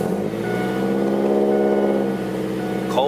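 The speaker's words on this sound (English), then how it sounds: "Cold start for the day, y'all." Ford Focus ZX3 engine idling right after a cold start, a loud steady near hum with a tonal whine that eases off around two seconds in.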